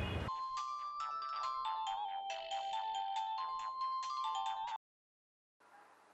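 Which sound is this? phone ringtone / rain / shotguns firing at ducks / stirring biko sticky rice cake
phone ringtone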